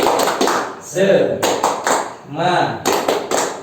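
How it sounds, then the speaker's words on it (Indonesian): A group claps hands in a rhythmic patterned sequence of sharp taps, alternating with a voice chanting loudly between the bursts. "Tepuk tangan semangat Pak."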